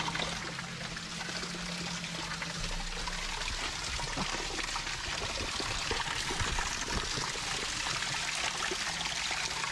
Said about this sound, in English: See, that's where water's falling.